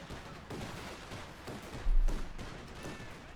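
Browning automatic rifle fire in a Company of Heroes 2 battle: faint, scattered short bursts of gunfire against a low, busy battlefield background.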